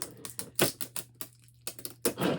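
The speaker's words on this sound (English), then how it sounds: "Get these corners. Pull them and tape them." Packing tape is pulled from a dispenser and pressed onto the corners of a packaged blanket, making a series of sharp ripping and tapping bursts with short pauses between them, close and fairly quiet.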